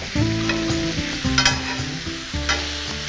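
Chicken tawa pulao with ginger being stirred on a hot tawa, a steady sizzle broken by repeated scraping strokes of a spoon against the metal, close and loud.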